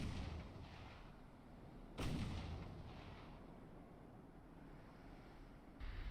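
Naval gunfire in the warship game Ultimate Admiral: Dreadnoughts: one heavy boom breaks over a steady rumble of wind and sea, and a second blast starts right at the end.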